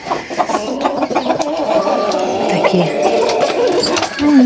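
Roosters and hens, including Amrox chickens, clucking and calling in a busy village poultry yard, with continuous bird chatter and a louder call near the end.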